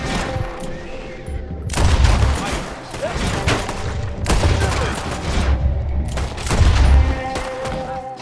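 Gunfire in the video game Red Dead Redemption 2, loud bursts of rapid overlapping shots in three waves with booming impacts, close and dense, with game voices faintly mixed in.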